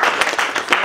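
Brief burst of crowd applause at a DCP party youth rally, dense clapping with a few sharper claps standing out, loud and close.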